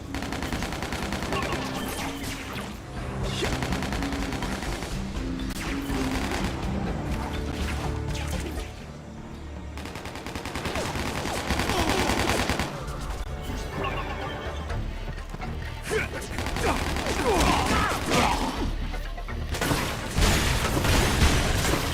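Gunfire and combat effects in the Spider-Man: Shattered Dimensions video game, loud and dense throughout, mixed with music and horse-like whinnies, with no talking.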